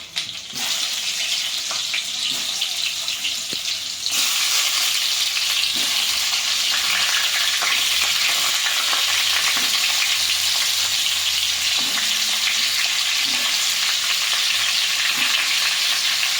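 Brinjal pieces dropped into hot oil seasoned with mustard seeds, cumin and asafoetida for a spicy stuffed eggplant curry, a loud, close, continuous sizzle that swells sharply a few seconds in and holds steady with faint stirring clicks.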